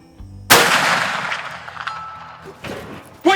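A single sharp black powder rifle shot from a CVA Optima cracks loud and close at a long-range shooting spot, its boom decaying into a long rolling echo, with faint movement sounds following.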